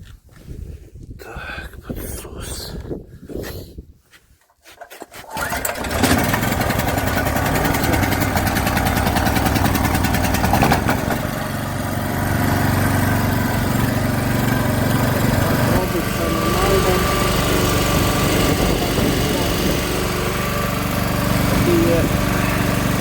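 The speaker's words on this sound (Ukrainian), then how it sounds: "маємо такий генератор і пробуємо заводити" A portable 2000 W generator being repaired for unstable revs under load is pulled to start, with a few rough attempts, then catches and runs at a loud, steady drone.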